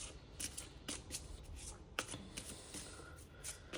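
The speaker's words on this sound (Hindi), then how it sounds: "यहाँ पे 2 कार्ड्स और ले लेती हूँ मैं इस डेक के" Tarot cards drawn and shuffled from a deck, giving soft papery riffles and slaps in several quick bursts, close and quiet, with no talking.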